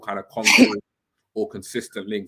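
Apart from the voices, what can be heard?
sneeze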